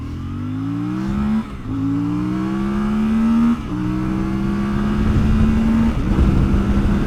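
A CF Moto 450MT motorcycle engine revving hard through several gear shifts, slightly uphill, pitch climbing then dropping at each change, loud and close with road noise underneath.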